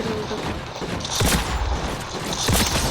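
Rapid gunfire in the Fortnite video game crackles in dense, loud bursts, with a sharper volley about a second in and more shots near the end, with no talk over it.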